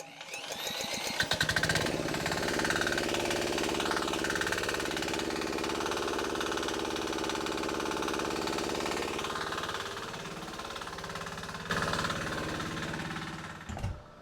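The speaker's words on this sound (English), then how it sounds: "Now I'm going to go ahead and start the engine." A small diesel engine fueled with olive oil runs steadily and loudly at a constant pace after a brief start-up. It has a rapid, rattling knock, with no one speaking over it.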